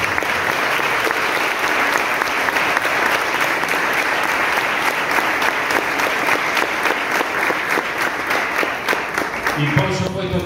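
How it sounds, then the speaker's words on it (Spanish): Audience applause at an arts education congress in Azul: loud, dense clapping from a large crowd sustained without a break for about ten seconds, tapering slightly at the very end. "así que les pido un fuerte aplauso para ellos"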